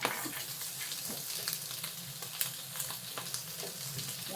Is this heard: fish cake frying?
yes